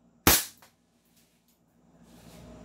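A Desert Eagle or Hi-Capa airsoft pistol fires one sharp, loud crack that decays quickly, followed by near silence and faint background noise building toward the end.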